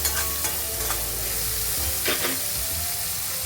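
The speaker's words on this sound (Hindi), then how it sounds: "और इसे सॉफ्ट होने तक भूनते हैं अच्छी तरह" Tomatoes with salt sauté and get stirred in a pan for Malwani chicken curry, giving a steady close sizzle broken by repeated scraping stirs of a spoon against the pan.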